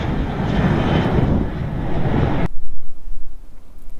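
An airplane in flight gives off a loud, steady broadband roar that cuts off abruptly halfway through, leaving a much quieter low hum.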